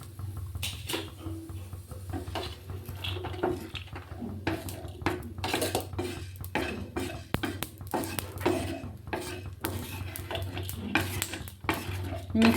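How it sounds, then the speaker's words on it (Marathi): Peanuts, green chillies and coriander seeds are dry-roasted and stirred in a pan, with repeated scraping and clattering of a spoon against metal over a low steady hum. "शेंगदाणे मिरच्या झालंय भाजून, त्याच्यामध्ये धने पण भाजून घ्यायचे लगेच"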